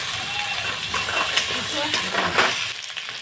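Chilies, onion and taro frying in a pan, a continuous close sizzle with scraping stirring strokes and occasional clinks, with a voice speaking faintly in the background.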